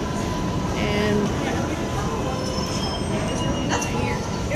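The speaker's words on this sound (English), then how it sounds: "Boston College train right there." An MBTA Boston College subway train rolls in on the tracks, wheels squealing loudly and steadily over a constant rumble, with voices in the background.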